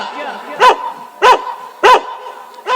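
A dog barks three times at an even pace, close and loud, with short pauses between the sharp barks. It is set in a Kannada village stage play.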